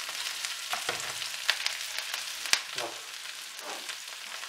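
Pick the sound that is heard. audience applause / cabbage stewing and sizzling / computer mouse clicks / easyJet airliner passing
cabbage stewing and sizzling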